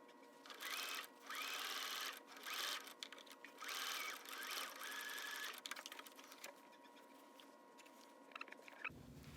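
A sewing machine stitches across the top of a thick towel, running in several quick whirring bursts with short pauses between them, close and clear with no talking.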